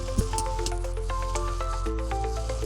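Port wine is poured into a hot pan holding salmon steaks, giving a soft wet squish and bubbling sizzle over a steady low cooking hum, brief and close.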